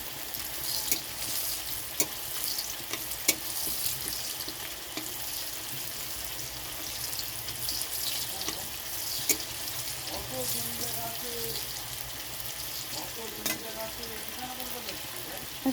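Bay leaves sizzling in hot oil in a wok alongside dried red chillies, a continuous close crackle with occasional sharper clicks and scraping of a spatula, some faint background noise but no clear talk.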